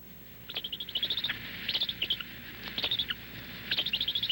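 Birds chirp in quick, bright bursts of rapid tweets, several short trills repeating against a quiet background at moderate distance.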